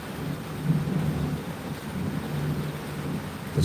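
Thunder from a passing summer storm over an Australian backyard, a low, soft rumble swelling and fading under a steady wash of rain, fairly distant, with no voices.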